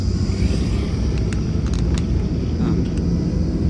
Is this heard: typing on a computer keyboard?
no